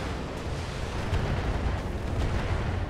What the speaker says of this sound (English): We will fire the long range missiles at that thing.